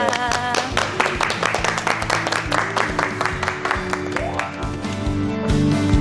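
An indoor studio audience claps to welcome a lecturer onto the stage, dense rapid hand claps sustained for several seconds, fairly close and loud, with a voice briefly heard near the end.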